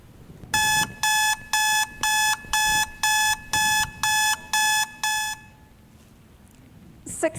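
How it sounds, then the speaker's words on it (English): An alarm clock beeps in a rapid, regular pattern, nine loud pulses in a row, then stops, leaving a quiet room. "Six o'clock alarm"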